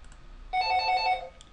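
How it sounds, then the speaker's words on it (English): A telephone rings once in a short electronic trill, clear and moderately close, following a quiet moment, with no talk. "Oh, my phone is ringing."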